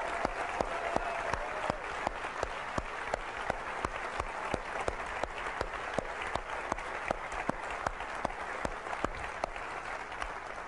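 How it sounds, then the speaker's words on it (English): Sustained applause from the audience at a 2003 Apple special event, a dense wash of clapping with crisp individual claps popping out, steady and even across the whole stretch with no talk. "I'd like to give them a round of applause"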